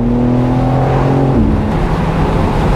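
A four-wheel drive convertible pulls away, its engine note loud and close, steady harmonics rising and then dropping at a gear change into broader, rougher drive noise, with no talking.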